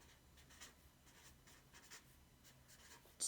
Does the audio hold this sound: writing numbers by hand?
yes